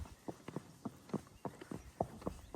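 A horse walks outdoors on a ride, its hooves clip-clopping in a steady, moderately close rhythm of distinct thuds over a quiet background, with no talking.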